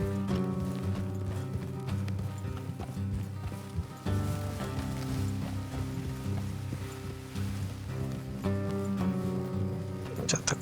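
Horses trot in Red Dead Redemption 2, a steady clip-clop of hooves running under a game music bed, with characters talking over the rhythm throughout.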